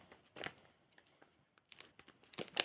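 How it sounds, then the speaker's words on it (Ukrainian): A Kuromi-themed paper surprise packet being torn open, heard as several short, quiet rips and crinkles close by, separated by brief pauses. "І ось такий нам пакетик сьогодні треба відкривати."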